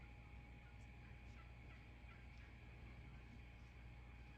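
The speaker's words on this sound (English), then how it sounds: "Thought I might make the turkeys gobble." Faint, distant wild turkey gobbles rise now and then over a steady background hiss, several brief calls spread across the stretch.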